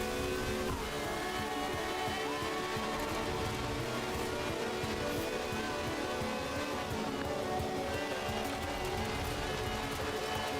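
Car engine droning steadily in Forza Horizon 4 while driving through countryside in the rain, a continuous loud hum mixed with rain hiss and faint background music for the whole stretch.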